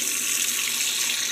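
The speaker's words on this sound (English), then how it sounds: "And then when you turn the water on," A kitchen faucet pours water into the sink with a steady, loud, close rushing hiss that never lets up, and no voices.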